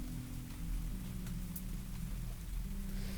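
Rain falls in a steady, faint patter with a low continuous rumble underneath, heard on its own without anyone speaking.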